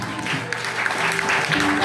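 Church congregation at a Sunday service breaking into steady, dense applause, a continuous broadband clatter of many hands that holds at an even level throughout, with some voices mixed in.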